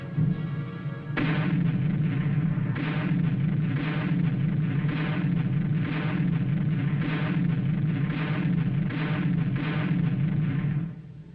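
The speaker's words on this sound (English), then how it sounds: "With a little added elevation, a tank's rifle can be darn good artillery." Tank guns used as artillery in the Korean War fire a long series of heavy booms, roughly one every second, loud and rolling over a constant low rumble, with no voices.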